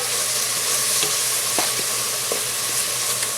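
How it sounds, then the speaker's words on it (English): Onions sautéing in a pot for a butternut squash beef stew, giving a steady, close sizzle with a few faint clinks of a spoon against the pot. No one speaks. "this will take about 2 minutes to saute to get these onions nice and"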